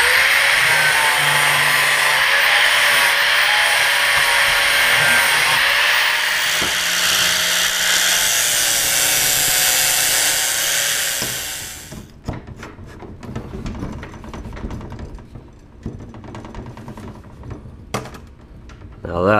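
Power tool slicing a contour notch into a metal tube, a loud high-pitched continuous whine for about twelve seconds that abruptly stops, followed by quieter clanks and handling noises.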